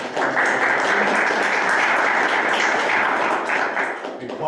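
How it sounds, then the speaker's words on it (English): Audience at a regional housing partnership meeting claps steadily for several seconds, a dense, even patter of many hands filling the room before tapering slightly at the end. "So, a round of applause."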